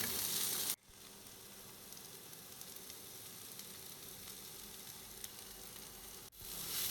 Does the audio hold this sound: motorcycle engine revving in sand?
no